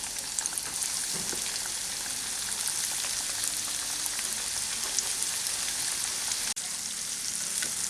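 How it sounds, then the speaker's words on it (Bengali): Chicken pieces frying in hot refined oil in a wok over a medium flame, a dense, steady, rain-like sizzle close up and loud, with a single sharp knock near the end and no voices. "এই চিকেনগুলোকে আমি একটু হালকা করে হালকা একটু বাদামি করে ভেজে নিচ্ছি"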